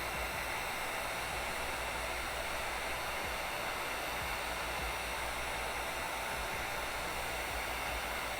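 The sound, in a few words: heat gun drying a stencil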